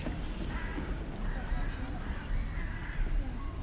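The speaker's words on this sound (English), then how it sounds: "These things are some big birds." Large birds in a Vienna park give harsh, crow-like cawing calls at a distance, faint under steady outdoor noise and nearby voices.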